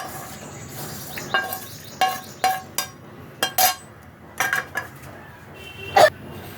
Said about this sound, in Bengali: আমি মিক্সার বোলের মধ্যে এই যে কড়াইশুঁটিটা কুচিয়ে নিয়েছি, এর মধ্যে আমি এইগুলোও দিয়ে দিলাম।